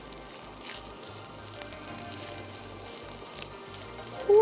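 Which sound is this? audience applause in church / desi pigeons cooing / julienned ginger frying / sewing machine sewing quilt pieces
julienned ginger frying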